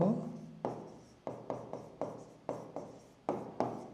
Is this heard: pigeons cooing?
no